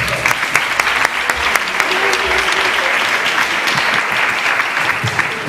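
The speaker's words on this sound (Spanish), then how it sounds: "aplauso para vosotros." Dense audience applause at a Christmas concert by inclusive orchestras in San Juan de Aznalfarache, steady and loud for the whole stretch, with some crowd voices mixed underneath.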